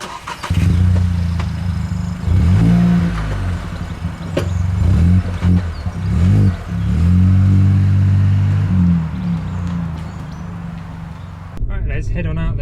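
A Volkswagen Up GTI engine hums and revs as it drives along a country B road, rising and falling with gear changes while someone talks over it.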